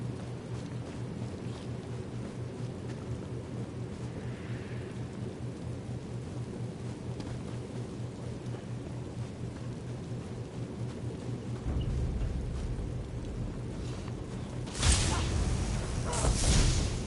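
Steady rain with rolling thunder in the Elder Scrolls Online game, a continuous wash of downpour under low rumbling that swells louder near the end with a sharp thunder crack.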